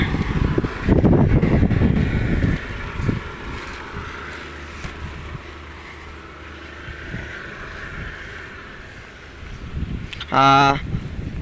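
Strong wind gusts roar across the microphone during light drizzle, loud and buffeting at first, then easing to a steady rush. A brief tonal burst cuts in near the end.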